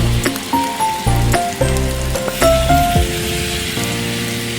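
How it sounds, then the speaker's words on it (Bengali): Potato pieces tipped into chicken frying in a pan, domestic style, set off a loud close sizzle punctuated by clattering thumps and ringing metallic tones. "চিকেনগুলো যেহেতু আমি আলু দিয়ে করবো, এর মধ্যে আমি এবার আলু দিচ্ছি"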